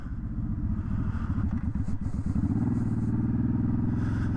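A Suzuki Boulevard M50 cruiser motorcycle being ridden, its engine giving a deep, steady, pulsing rumble that rises slightly as it pulls, loud and close throughout with no talking.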